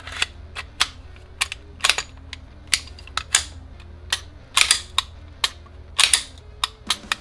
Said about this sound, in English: Now we'll fire without a magazine.